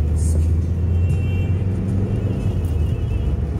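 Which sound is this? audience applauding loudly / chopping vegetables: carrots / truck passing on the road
truck passing on the road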